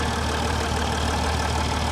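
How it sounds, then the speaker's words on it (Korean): A 2013 diesel car's engine idling, a steady, close, even low rumble with a faint clattering texture and no voices. "조금 엔진 소리가 틀린 거 여러분들도 느끼실 겁니다."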